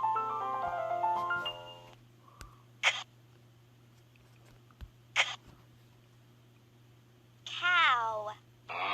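A cartoon cat in the Starfall educational game meows a few times, clear and close, with short squeaky calls and one longer wavering meow near the end, set between brief musical tones and a soft steady hum.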